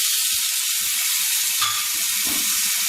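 Lamb cutlets sizzle on a hot, smoking portable grill, a constant bright hiss with small crackles and pops close by, steady for the whole stretch with no voices over it.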